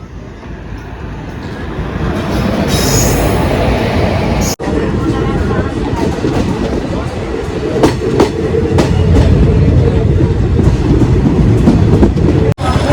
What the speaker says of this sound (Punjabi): ਆ ਗਈ ਆਪਣੀ ਟ੍ਰੇਨ